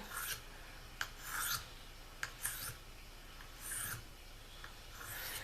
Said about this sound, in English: how to sharpen your knife using a tri-hone or a sharpening stone